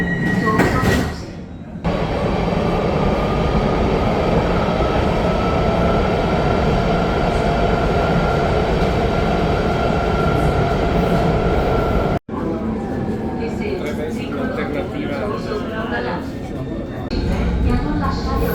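A Milan M4 metro train rumbles loudly and steadily as it runs, with a brief sharp drop in the sound partway through, wheel squeal, and a rattling clatter as it carries on; a recorded announcement voice can be heard.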